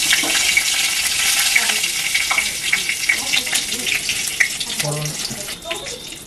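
Two dried red chillies dropped into hot oil for an ilish fish-head and kochu greens dish, a loud continuous sizzle and crackle close by, stirring clatter near the end.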